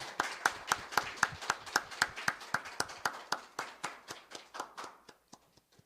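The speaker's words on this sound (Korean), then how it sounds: "우리 하나님께 영광의 감사의 박수를 올려드리시겠습니다." Hand clapping during an online Christmas worship service in 2020, a single source of sharp, evenly spaced claps in a steady rhythm, about twenty strikes that gradually slow and fade, quiet and alone.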